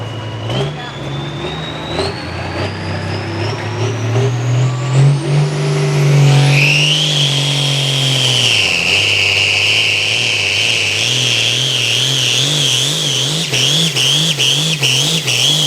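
A pulling tractor at a Selinsgrove tractor pull roars loudly, its engine pitch climbing steadily, then dropping abruptly before settling into a wavering, pulsing drone, with crowd and announcer noise beneath.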